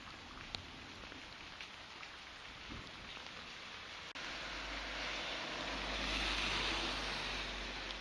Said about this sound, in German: Es regnet immer stärker.